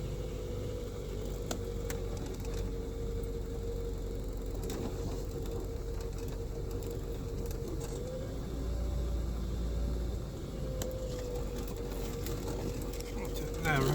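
An Austin Allegro car is driven slowly out of a garage, a steady low engine rumble and idle hum running throughout with a few faint mechanical clicks, close by and moderately quiet.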